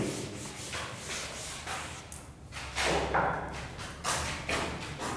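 Eraser rubbing across a classroom board in repeated scrubbing strokes with dull thumps, fairly close, with no one talking.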